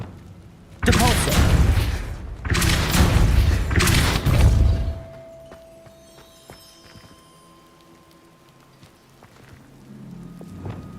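The Depulso spell is cast in the Hogwarts Legacy video game, giving three loud, broad whooshing bursts in quick succession that fade into quiet ambience with faint tones.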